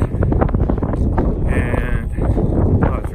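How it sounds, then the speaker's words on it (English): Strong wind on the Pacific Crest Trail, along the aqueducts, buffets the microphone with a constant low rumble, loud and close, and a faint voice is briefly audible beneath it. "it's really windy again"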